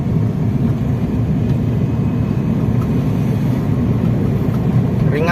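A Chevrolet Captiva diesel SUV cruising at around 1500 RPM and 40 km/h, heard from inside as a steady low engine and road drone, even and fairly loud throughout, without talking.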